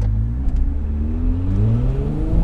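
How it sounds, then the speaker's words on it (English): A Ferrari 296 GTS V6 engine revs up steadily, its pitch climbing smoothly as the car accelerates, loud and close with a smooth, refined growl. "This is a V6 that sounds like a quieter, less rowdy V12"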